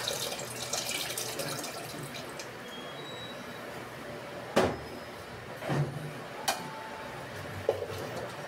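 Water is poured into a cooking pot on a home stove, a soft steady splashing at first that fades to quiet, followed by a few sharp clicks and knocks of the pot.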